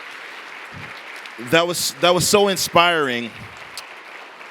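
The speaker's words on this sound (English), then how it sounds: "Please let's all give a big round of applause once more" Audience applause at a university diversity forum after a guest speaker's talk: a steady, moderate wash of clapping that continues beneath a voice speaking over it.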